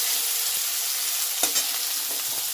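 A large onion frying in a pan as the base for an eggplant curry, a close, steady, dense sizzle that never lets up, with a light stir in the middle and no talking.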